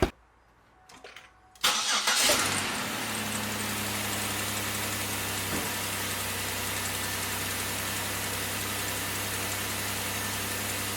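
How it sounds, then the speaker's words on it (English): A 3.8 V6 in a Pontiac Grand Prix, just fitted with a new ignition module, cranks briefly and catches, then settles into a steady, even idle that runs on loudly and close by. "we're going to start her up and make sure we're firing on all cylinders"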